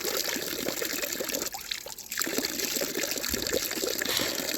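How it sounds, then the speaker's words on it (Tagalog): Fresh water streaming from a public tap outdoors in a European town, a steady close splashing and pouring that dips briefly midway before resuming, with no voices. "Fresh water. So, pwede ka ditong kumuha ng tubig"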